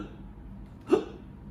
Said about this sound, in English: The hiccups stayed.